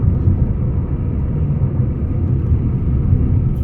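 A vehicle drives at about 80 along the Buxar–Patna highway beside a long line of trucks, producing a loud, unbroken low road rumble with heavy traffic passing.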